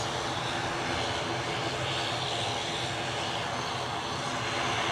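Airliner about 15 years old departing for Belfast, a steady broadband engine roar close by, sustained and loud throughout with no talk.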